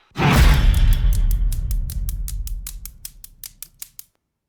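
A heavy, boomy cinematic impact hits hard and rolls off, followed by a quick series of sharp metallic ticks that speed up and fade.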